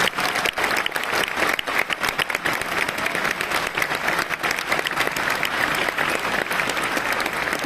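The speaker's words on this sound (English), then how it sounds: "I'd really like you to give Samantha a big round of applause just to show your appreciation." A crowd breaks into sustained applause, dense steady clapping from many hands that carries on for several seconds without a break.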